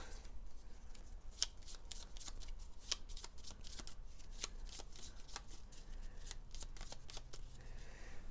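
A deck of Gloomhaven board game cards shuffled nearby, repeated crisp riffles and light taps in a steady rhythm for several seconds, quiet and without voices.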